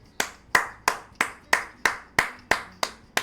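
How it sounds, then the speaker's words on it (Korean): About nine slow, sharp hand claps spaced evenly, close and distinct, following a baseball pitcher's strong outing in a review. "와 박수"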